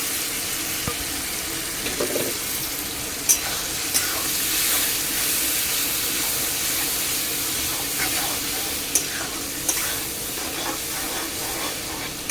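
Fried onions and spice masala frying in a pan with water for a chicken recipe, a loud steady hissing sizzle up close, with a few sharp spoon clinks against the pan.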